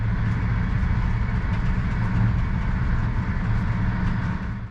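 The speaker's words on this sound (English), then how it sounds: "the Talgo design still results in a harsh and noisy ride" A Talgo high-speed train runs at speed, up to 250 km/h, on modern track near Barcelona, giving a steady, loud, harsh rumble and roar with faint rail clatter that holds throughout and eases slightly at the end.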